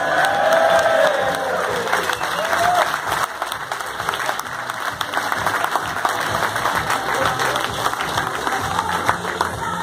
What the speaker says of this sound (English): Can you round of applause for Mr. Blobby, please?